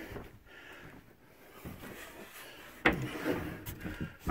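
Painted bedroom closet door in a house being staged for sale, a soft wooden rub and slide followed by a firm closing knock, then a sharper thud at the end, close by with no talking.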